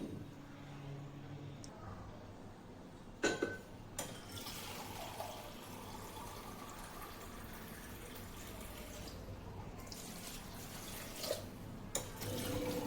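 Running water splashes steadily as greens are rinsed by hand, with occasional clinks and rustles of handling throughout.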